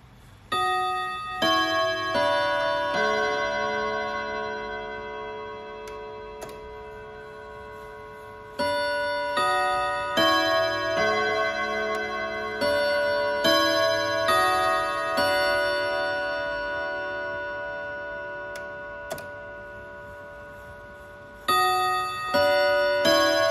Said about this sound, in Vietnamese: Còn sau đây sẽ là phần âm thanh tiếng chuông